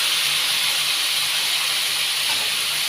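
Chickpeas and peas frying in hot oil with potatoes, a steady, loud broadband sizzle and hiss that runs unbroken throughout, with no talking.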